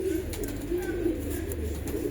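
Young pigeons that have just reached maturity coo steadily and close by, a low murmuring hum that carries on without a break.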